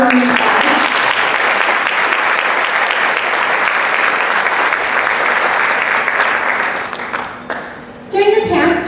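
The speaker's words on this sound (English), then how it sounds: "So if we could just give her a round of applause." Audience applause at the Miss Fridley pageant during Fridley 49er Days, a dense, sustained clapping from a large crowd that fills the scene loudly and then thins out near the end.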